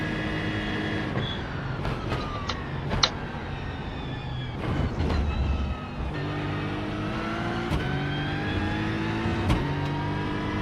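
LMP2 race cars in iRacing at Le Mans approach and pass, their engines rising and falling in pitch over a steady hum of the player's own car, with no talk.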